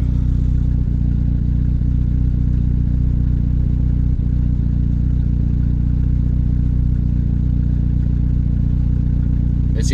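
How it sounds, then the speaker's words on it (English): A Honda Civic R18 engine fitted with a new header and catalytic converter idles steadily up close, a loud continuous low rumble that holds even for the full stretch, with a slight rise near the end. "Seems to idle better."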